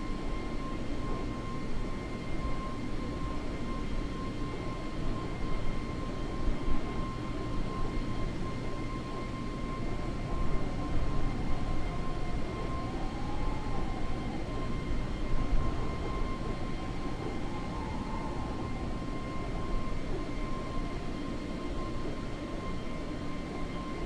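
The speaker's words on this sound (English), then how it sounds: "How's the Boeing 777 going, David?" A Boeing 777 aircraft engine in Microsoft Flight Simulator drones steadily and evenly throughout, a continuous cabin-like roar with no talking.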